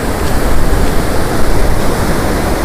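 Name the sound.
loud rushing river water at a barrage under construction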